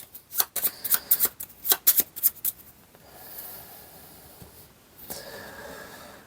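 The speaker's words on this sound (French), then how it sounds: "On va pouvoir remélanger." Playing cards for the board game Stephens are shuffled close by in a quick run of crisp riffling bursts, followed by softer rubbing and sliding as the deck is gathered.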